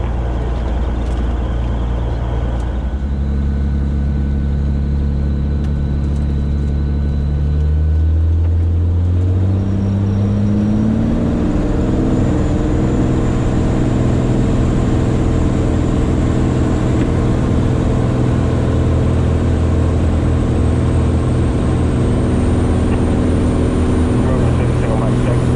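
A Cirrus SR22T Gen 6 on its takeoff roll from runway 28 right at Modesto: a loud, continuous engine and propeller drone that swells and climbs in pitch as power comes up, then holds steady and strong.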